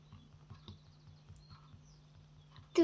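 A horse in the Roblox video game trots with a steady clip-clop of hooves at moderate volume, ending in a sharp louder hit.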